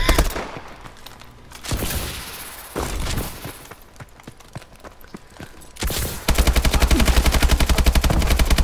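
Call of Duty: Advanced Warfare gunfire, with scattered sharp shots and bursts early on, then a loud sustained automatic burst rattling in a fast even rhythm near the end, no voices.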